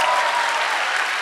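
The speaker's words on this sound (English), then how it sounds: "Big applause for Woz." Steady, dense applause from a large crowd, continuous and loud throughout with no voices standing out.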